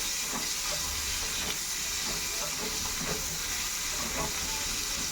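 Garlic, chopped onion and potato frying together in a pan, a dense continuous hiss and sizzle close up with faint stirring scrapes.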